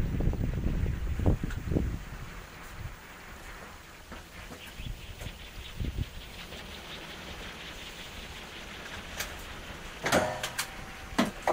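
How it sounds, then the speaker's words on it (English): Wind gusting around a homemade 24-volt e-bike hub motor wind generator, a steady outdoor rush with scattered knocks and louder gusts near the start and end. "Wind's picked up a bit."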